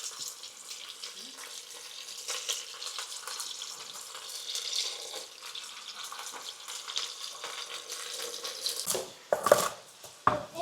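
The first batch of meat frying in a heated pan for a stew, a steady close sizzle that holds throughout, with a few sharp clatters of utensils near the end.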